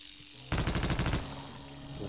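Rapid burst of automatic gunfire from a weapon in the shooter game Half-Life: Opposing Force, loud and close, about a dozen quick shots over roughly 0.7 seconds before it cuts off, followed by a lingering low game ambience.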